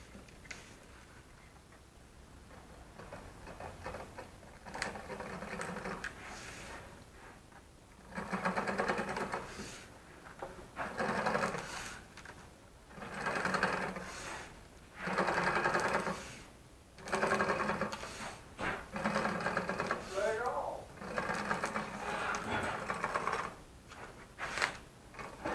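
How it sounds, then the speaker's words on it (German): A Kuper veneer sewing machine stitching veneer strips together, running in repeated bursts of rapid mechanical ticking and rattling separated by short pauses, close and clear with no talk. "Und jetzt habe ich hier eine Nähmaschine, eine Furniernähmaschine, mit der nähe ich das jetzt zusammen."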